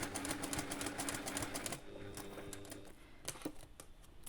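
A sewing machine stitches through a scrap of fabric at the start of sewing a mini snap keychain pouch, giving a fast, steady mechanical rattle that stops partway through, followed by a few quieter clicks and taps.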